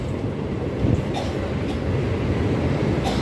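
A MEMU train rolls over the rails into Vijayawada Junction, a loud, dense rumble from inside the carriage with a few light knocks from the wheels.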